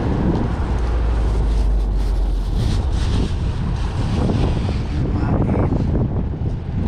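Strong wind buffets the microphone in a continuous loud roar, rumbling low and gusting throughout, with a wash like water or surf underneath.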